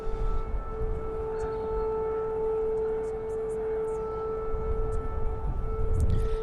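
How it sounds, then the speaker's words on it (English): An air raid siren wails across Ukraine in a steady, sustained tone that holds at an even pitch throughout, loud and continuous with faint background noise. "we can hear the siren again now"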